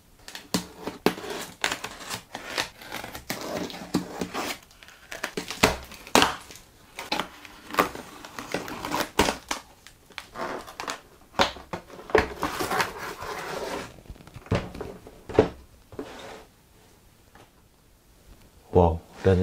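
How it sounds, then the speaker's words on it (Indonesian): Unwrapping a neatly wrapped package holding a Hasbro Monopoly Classic board game: close crinkling, tearing and sharp snapping rustles in irregular bursts, with a person talking throughout. "langsung saja kita mulai unboxing untuk paketan ini"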